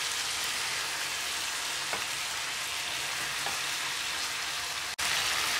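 Biryani spices and chicken sizzle in a pan while being stirred, giving a dense, steady frying hiss with a few soft scrapes and a brief break near the end.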